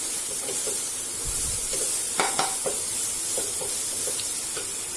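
Ginger garlic paste sizzles and fries in a pan over a large flame for a potato and pea curry, a constant hiss with a few light stirring scrapes and taps, close and steady with no talking.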